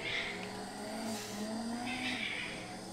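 A race car in Gran Turismo 4's Pan Euro Championship revs with a rising, siren-like engine whine over a sustained drone, loud and continuous through a short stretch of driving.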